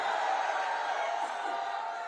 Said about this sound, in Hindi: ताली बजाइए जरा।